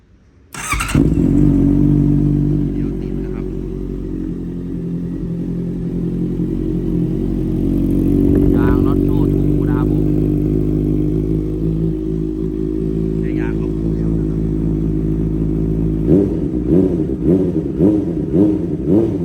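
A Honda CB converted to CBR650F styling, 2014, with a loud aftermarket exhaust, cranks from cold and catches, then settles into a steady loud idle with a few throttle blips toward the end.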